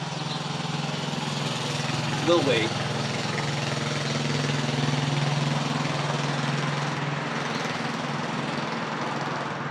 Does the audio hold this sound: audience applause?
no